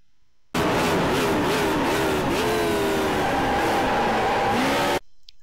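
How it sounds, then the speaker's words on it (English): A Radical SR8 race car in iRacing braking hard and downshifting from sixth gear to first: loud engine with stepped pitch drops as each gear goes down, continuous and close, then cutting off abruptly. "Brake hard from 6th gear to 1st from the 2 sign."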